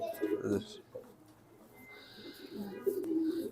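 Racing pigeons in a loft, a few soft, low coos near the start and again near the end, fairly close and quiet, with a faint rustle between them.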